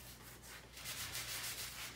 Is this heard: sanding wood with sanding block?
yes